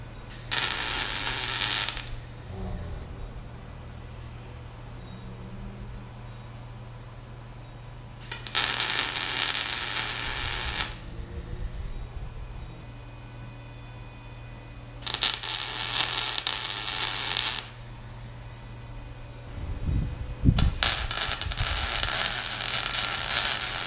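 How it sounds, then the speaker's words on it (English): Welding on a Lamborghini Countach frame: bursts of harsh crackling buzz, each lasting a few seconds, repeat four times with quieter low hum between them, close and loud. "Let's weld."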